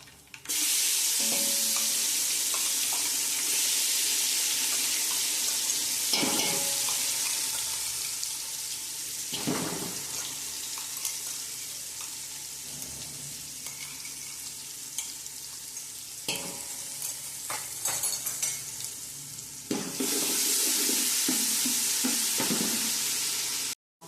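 Asafoetida, curry leaves and ginger-chilli-garlic paste fry in hot oil for undhiyu, a steady close sizzle running throughout with a few louder bursts and clinks as the pan is stirred.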